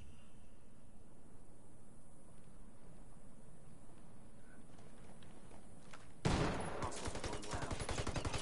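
Gunfire in the tactical shooter Ghost Recon during online multiplayer, a low rumbling backdrop that turns into loud, rapid bursts of shots near the end.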